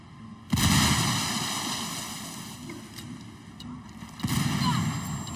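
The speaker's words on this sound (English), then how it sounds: "I'll just throw a grenade at it." A frag grenade explodes in the video game Ghost Recon Wildlands: a sudden loud, close blast with a long rumbling decay, then a second heavy burst near the end, over steady in-game background ambience.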